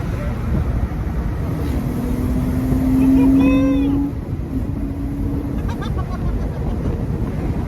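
A Porsche engine gives a quick rev blip from a steady idle during a downshift. The pitch climbs and falls within about a second, loud and close, over a constant engine drone.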